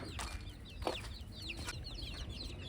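Free-range village chicks peeping and clucking as crushed feed is thrown to them, a busy cluster of quick high chirps near at hand, with a few louder hen clucks and no voices.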